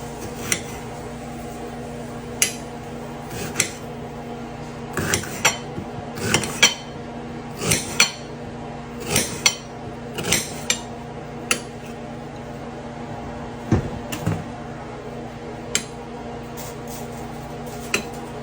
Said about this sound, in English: bear with me while I cut up this onion for the tuna fish